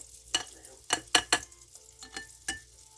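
One onion frying in a pan with the pieces stirred, heard as a series of sharp scraping and sizzling bursts at irregular intervals, close and clear with no talking.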